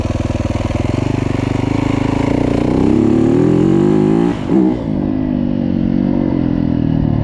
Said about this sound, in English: So I was in third and I didn't see the engine RPM rise up.